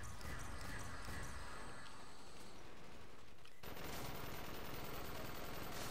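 Gunfire in a zombie shooter game set on the Moon comes as dense, rapid bursts of shots, fairly quiet and continuous, with a sharp shift in the mix partway through.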